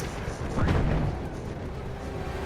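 A grenade blast in the video game Battlefield 1, a loud, close, rumbling boom that swells around the middle and fades into a dense roar of battlefield noise and distant gunfire.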